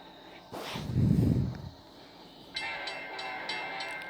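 A BNSF freight train rolls past outdoors with a swelling rumble, then its horn sounds in loud, sustained chord blasts that stop and start over the running train.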